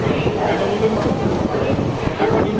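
The Bhagirathi Express, Lalgola–Sealdah, rolls into Barrackpore railway station with a loud, steady rumble of wheels and carriages and faint clatter.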